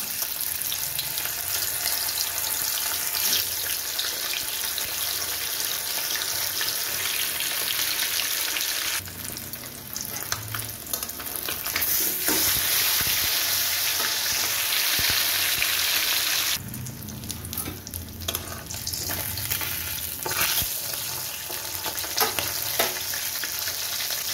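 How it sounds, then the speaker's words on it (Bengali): Fish frying in hot oil in a wok, a loud continuous sizzle and crackle close by that dips briefly as pieces are moved, then surges again. "এবার আমি মাছগুলো আস্তে আস্তে তেলের মধ্যে দিয়ে দিচ্ছি"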